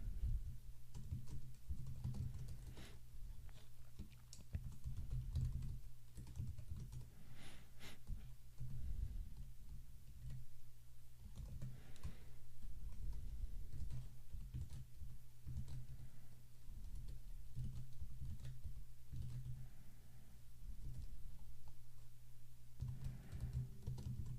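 Someone types on a computer keyboard while entering items into an event registration form, steady quiet clicking in uneven bursts with short pauses, close to the mic in an otherwise quiet room.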